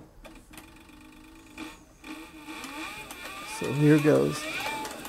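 A leather sewing machine driven by a servo motor runs slowly, a soft mechanical whir that swells and surges near the end, with someone speaking briefly at the start.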